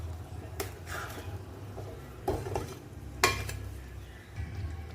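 Soybean and mung dumplings drop one by one into a pot of boiling liquid, giving a few soft plops and splashes over a steady low bubbling. No one speaks.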